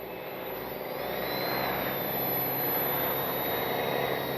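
A small electric RC P-51D warbird model plane, 850 mm span, runs its motor on the ground with a steady, whining hum that swells slightly and holds, close and fairly loud.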